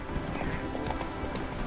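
Horse hooves clip-clopping at a quick gallop in The Witcher 3 video game, a rapid, continuous drumming of hoofbeats close up with a faint whinny.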